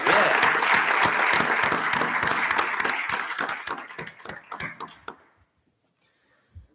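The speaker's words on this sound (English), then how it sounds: "How about a nice round of applause for all our new staff and welcome them to the East Rockaway family" Loud applause from an audience at a school board of education meeting welcoming new staff, dense clapping that holds steady, then thins into scattered claps and fades to silence near the end.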